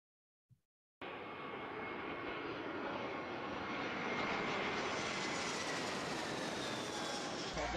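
A fixed-wing airplane's engines roar steadily during takeoff, a broad sustained rumble that begins abruptly and holds loud and unbroken, with a faint click just before it starts.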